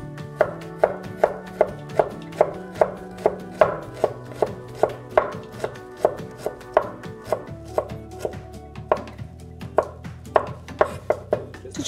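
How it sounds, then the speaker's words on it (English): A knife chops steadily through stacked slices of fresh ginger on a board, cutting them into thin strips; even, rapid taps repeat close by for the whole stretch, with no talking. "Then very carefully, I'm going to cut these into really thin strips."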